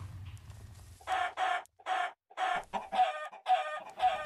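Chickens in a Minecraft chicken coop give a series of evenly spaced, clear clucks, with a low rumble at the start and no speech.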